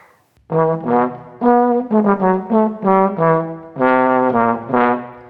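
A bass trombone plays a series of low, separate accented notes, each beginning with a firm, pushed attack before sustaining briefly; heard alone and fairly close.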